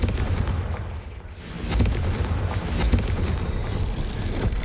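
Confringo fire spell from Hogwarts Legacy blasting in game, a dense, booming burst with rumbling low thuds and crackling debris that roll continuously over several seconds, loud and close.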